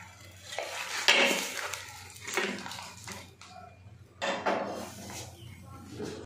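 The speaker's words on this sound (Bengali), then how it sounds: "এরকম একটা থালা চাপিয়ে এটা মাছটাকে উল্টে দিতে হবে।" A plate set down over a frying pan of banana-leaf-wrapped katla fish, ready for flipping, gives clattering dish-and-utensil knocks, with a sharp hit early on and another later over a low background hum.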